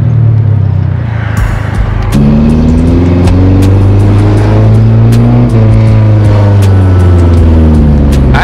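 A Nissan 240SX S13 fitted with a test pipe revs hard up close, its loud exhaust rising and falling through several throttle blips in a steady droning roar with no talking.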